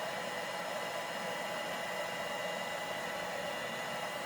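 A heat gun run on low heat over a vinyl skin on a Nintendo Switch OLED console, giving a steady, even airy blowing hiss that holds constant at close range with no talk.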